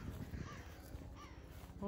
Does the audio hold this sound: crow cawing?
yes